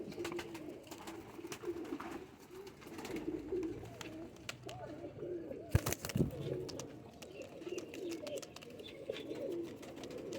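Pigeons are let go near a handler, with soft cooing and fluttering wing beats over a quiet background and a few sharp handling knocks midway.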